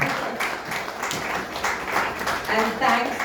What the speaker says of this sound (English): Please a round of applause for our two Mumbaikars.